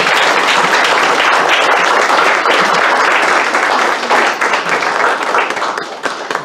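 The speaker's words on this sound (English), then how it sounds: "let's give Norbert a round of applause." Loud, close applause fills a church service as the congregation claps for a volunteer. The full, sustained clapping begins to thin and taper off toward the end.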